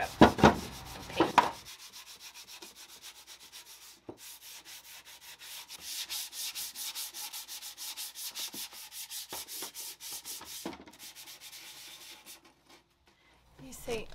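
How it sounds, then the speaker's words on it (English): Hand sanding scuffs the surface of a wooden desk being prepared for chalk paint, a steady rhythmic rubbing that runs for most of the stretch, with a few louder knocks and handling noises near the start and end. "I'm keeping this, but I want to sand it."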